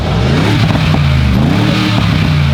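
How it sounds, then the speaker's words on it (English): A stock full-carbon supercar with exhaust valves open revs loudly and close by, its low engine drone rising and falling with sharp pops mixed in, heard alone without talk. "Now give it a rev."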